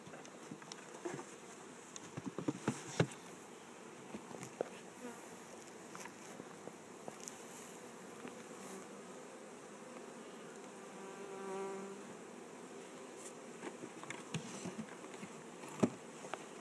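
Honey bees buzz steadily around a hive, a soft continuous drone with occasional louder passes close by and faint knocks in the background.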